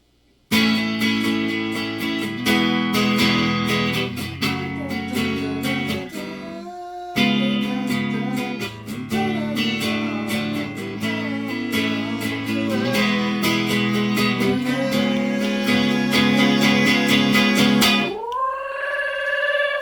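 Strummed acoustic guitar chords ring out in a steady rhythm, pausing briefly midway, then ending on a sustained sliding note. Clear and close, no voices.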